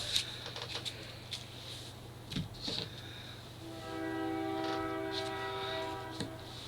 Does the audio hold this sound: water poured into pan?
no